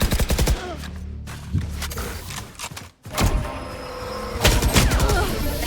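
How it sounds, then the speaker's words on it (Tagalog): Rapid bursts of gunfire from the Valorant shooter game, loud, close fusillades with several sharp volleys separated by brief pauses and a short quiet gap midway. "Uy, mga baril na."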